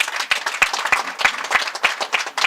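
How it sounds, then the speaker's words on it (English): Audience applause at a youth engagement gathering in Ongwediva, honouring young cadres: a brief burst of crowd clapping, dense and close, with sharp individual claps standing out. "I would like us here to give a hand of applause to the young cadres"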